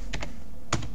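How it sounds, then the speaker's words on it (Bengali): Typing on a computer keyboard, a few crisp close key clicks: two quick taps, a pause, then another pair of taps over a quiet room hum. "স্ল্যাশ দেবো WP -admin লিখব,"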